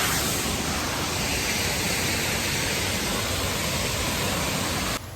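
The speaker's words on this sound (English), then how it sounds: "And this is the famous waterfalls here" Waterfall in Karura Forest, Kenya, a loud, steady, broadband rush of falling water that holds unbroken and close throughout before dropping off abruptly at the very end.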